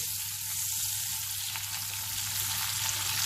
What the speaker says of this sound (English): To this, I'm going to add my ginger garlic paste. Saute it a little, and this is all on high flame.